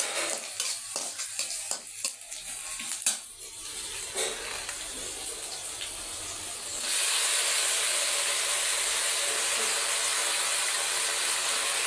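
Freshly washed greens hit hot oil with crackling spatter, then a loud, steady hiss of steam and frying that settles and holds.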